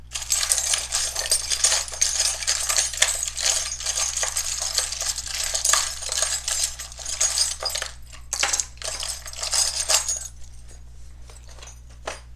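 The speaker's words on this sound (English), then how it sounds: "I just shuffle, shuffle, shuffle until I feel like I need to take out a few handfuls." Rune stones and small charms shuffled by hand in a loose pile, a steady dense clatter of hard pieces clicking and rattling together for about ten seconds, then a few sparse clinks as the handful settles.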